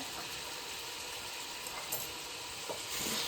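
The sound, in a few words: sliced onions sizzling in pan for chicken biryani masala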